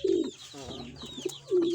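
Pigeons coo in low, throaty bursts at the start and end, close and fairly loud, with softer bird calls and faint chirps between them.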